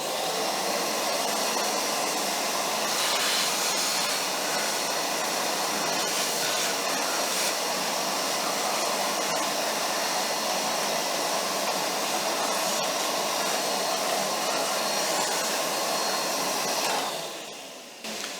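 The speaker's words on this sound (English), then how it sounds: "so you want to give everything in here a really good vacuum." A vacuum cleaner runs steadily while cleaning out a pellet heater, a loud, continuous broadband whoosh and whine that holds for the whole stretch before cutting off at the end.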